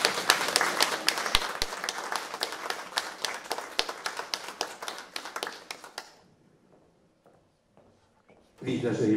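Audience at a patriotic evening commemorating the 101st anniversary of Polish independence claps in a dense burst of sharp hand claps that thins out and fades to near silence, followed by a sudden return of room noise.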